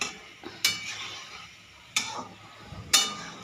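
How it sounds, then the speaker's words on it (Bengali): A spoon stirs vegetable curry with potatoes in a cooking pot, making three sharp metallic clinks against the pot, spaced apart, over a faint sizzling background. "এবার নাড়া।"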